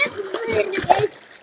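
A child kicks legs in a temple pond during a swimming lesson, giving a few short close splashes and sloshes of water under an adult's spoken instructions.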